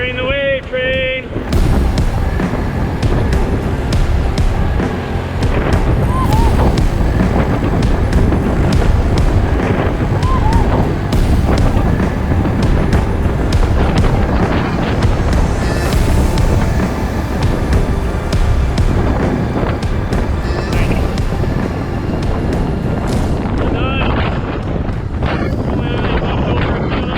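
Loud, continuous rushing water and wind buffeting around a canoe entering a river rapids wave train, steady and close throughout, with occasional voices breaking through.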